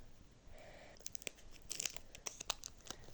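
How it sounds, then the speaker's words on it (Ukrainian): A paper sticker is peeled slowly off a paper surprise toy up close, giving a quiet drawn-out rasp followed by sharp crackling tears and crinkles that come in irregular bursts. "От я вже відклеїла."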